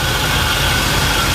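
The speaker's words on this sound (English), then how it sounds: "So now I'm going to start the engine." A car engine idles steadily and close by throughout, a continuous low rumble with an even mechanical hum and no talking, heard during a crankcase pressure check on the PCV system.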